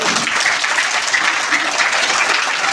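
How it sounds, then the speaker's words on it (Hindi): Audience applause at a school's first annual function, a steady, dense wash of clapping from a large crowd that fills the whole stretch at an even, loud level. "अब जिनको लगता है जी सकते हैं वो ताली बजाइए"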